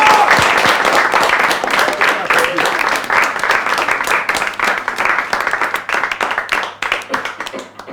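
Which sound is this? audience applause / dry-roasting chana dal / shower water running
audience applause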